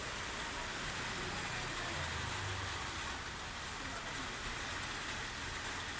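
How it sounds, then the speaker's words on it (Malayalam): A light drizzle falls outdoors on a sunny afternoon, a faint, continuous patter and wash with a soft low rumble underneath and no voices. "നല്ല വെയിലും ഉണ്ട്, നൂലിട്ട പോലെ മഴയും പെയ്യുന്നുണ്ട് കേട്ടോ"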